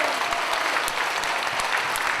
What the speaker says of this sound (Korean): 다시 사신 우리 예수님께 영광의 박수 올리겠습니다